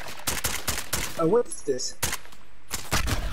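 Video game gunfire in Call of Duty: Modern Warfare, a rapid series of sharp loud shots in short bursts, mixed with a player's voice speaking between and over them.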